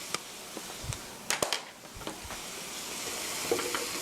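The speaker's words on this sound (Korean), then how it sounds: "고루 섞어주세요" Fried tomato sauce with parmesan cheese is stirred in a pan for a rice bowl, with soft sizzling and a few sharp utensil scrapes and clacks near the start before a quieter steady hiss.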